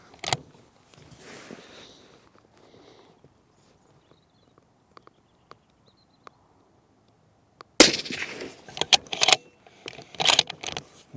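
Sako 90 Peak Carbon rifle fired outdoors in a test: after a long quiet stretch, one sharp, loud blast erupts, followed by several more harsh bursts and clatter.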